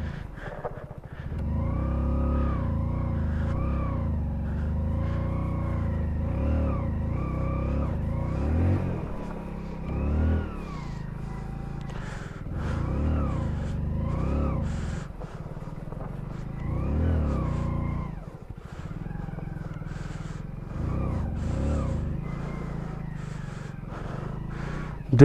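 A small Hero Splendor motorcycle engine labours up a steep mountain climb, a moderately loud, steady drone that rises and falls with throttle changes and holds on strain, heard fairly close throughout with no talk.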